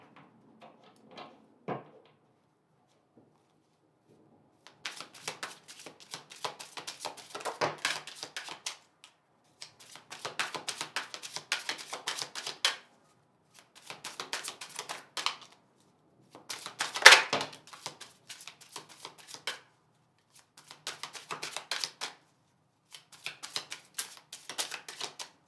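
Bursts of rapid riffling and flicking as tarot cards are shuffled up close, repeated in several spells separated by brief pauses, with no talking.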